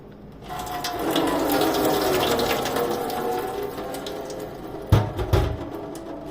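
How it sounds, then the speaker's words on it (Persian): Ice water from a glass is poured over a person's head indoors, giving a steady splashing gush that fades. A couple of sharper splashes follow near the end. "1 لیوان آب یخ بریم خالیش کنیم روی سرمون"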